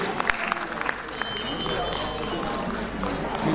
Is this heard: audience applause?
yes